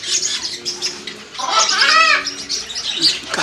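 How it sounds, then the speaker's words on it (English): Finches chirp in a parrot bird shop, giving close, busy twittering and a louder rising-and-falling trill in the middle, over a dense background of other caged birds calling. "Now we're on to the speedies. Those are finches."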